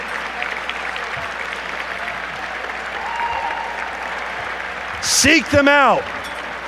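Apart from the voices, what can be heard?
audience applause for scholars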